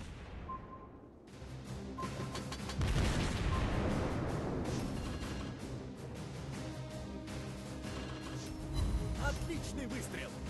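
Heavy naval artillery fires in World of Warships, deep booming blasts rolling out alongside battle noise and music, with one big salvo near the start and another later.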